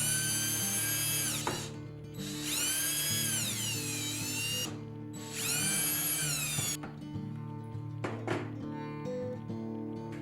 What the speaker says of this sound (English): First, unscrew and remove the existing hinge.